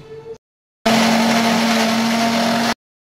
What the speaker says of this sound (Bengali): আমি বানাবো বলে পেঁয়াজ, রসুন, কাঁচা লঙ্কা বেটে নেব